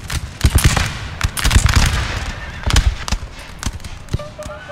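Infantry fire a musket volley in the video game Napoleon: Total War: loud, sharp cracks in ragged clusters, some overlapping and others spaced apart, with a faint background hum between them.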